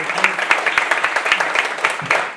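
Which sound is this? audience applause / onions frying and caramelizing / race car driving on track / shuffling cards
audience applause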